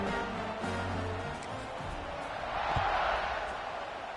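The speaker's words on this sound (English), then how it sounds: "this crowd is buzzing after that last score" A football stadium crowd buzzes steadily after a score in a Penn State versus SMU game, a broad distant roar with a slight swell near the end and faint commentary underneath.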